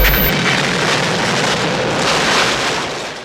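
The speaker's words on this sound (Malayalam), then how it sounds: "എങ്ങനെയാണ് ഈ പൊട്ടിത്തെറികൾ സംഭവിക്കുന്നത്" A loud, sustained rumbling roar of a film explosion effect, broad and heavy, fading slightly toward the end.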